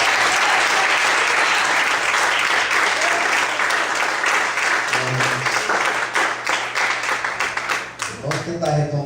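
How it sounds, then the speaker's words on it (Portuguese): A church congregation applauds loudly, a dense sustained round of clapping that thins toward the end as a voice begins to speak over it. "Você pode aplaudir o Senhor bem forte"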